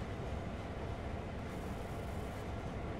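Train wheels roll on rails in the Train Sim World video game, giving a steady, dense rumble with a continuous clattering texture and no talking.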